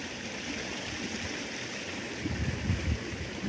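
Water runs steadily in a pool at Sunshine Bay Beach Club resort in Jeffreys Bay, South Africa, a continuous broadband rush with some louder splashing toward the end.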